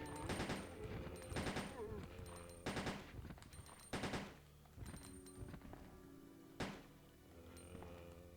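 Bursts of rapid gunfire in Resident Evil 2, several loud volleys separated by short pauses, with game sounds between them and no talking.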